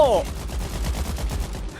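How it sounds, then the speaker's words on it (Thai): Gunfire in the Ratten Reich video game, a rapid burst of shots following artillery explosions, loud and close, with a brief rising tonal sound at the start. "การระเบิดปืนใหญ่ นี่ไงมาแล้วยิงตอบโต้"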